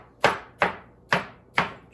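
A knife chops vegetables for gazpacho on a board, four crisp, evenly spaced cuts about half a second apart, close and alone.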